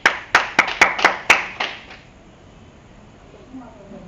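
Applause in a church service, with about seven sharp claps in quick succession that close together and end within two seconds, followed by a quiet room and a faint voice.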